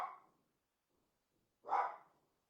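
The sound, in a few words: dog barking at dogs down the hill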